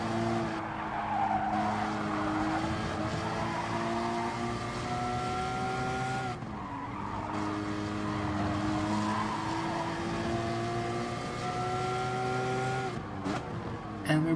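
A Gr.4 race car in Gran Turismo Sport brakes hard at Laguna Seca, its tires squealing in long sustained howls over the engine drone, easing and then returning in a second drawn-out skid.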